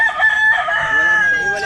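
A mother hen squawks and clucks loudly while being picked up and handled on a small farm, with a brief agitated burst of calls close to the microphone.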